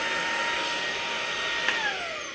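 Proscenic P11 cordless stick vacuum running, a steady high-pitched motor whine held at constant level, close and alone with no talk, fading slightly near the end.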